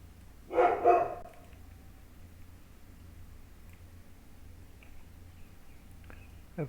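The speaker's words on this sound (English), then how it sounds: "I have no idea what he's barking at" A single dog barks indoors on a rainy day, a quick double bark close by followed by quiet room tone with faint small knocks.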